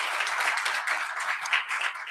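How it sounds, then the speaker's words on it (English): An audience applauds an award recipient at a distinguished service awards ceremony, a steady, moderately distant wash of many hands clapping with no voices over it. "give her a round of applause for the wonderful work that she has done"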